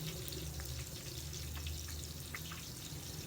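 Onions frying in a pan toward golden brown for chicken haleem, a steady, even sizzle with a soft crackle running unbroken throughout, close and moderately quiet, no voices.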